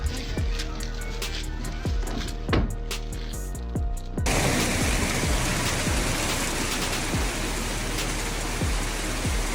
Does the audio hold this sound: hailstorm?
yes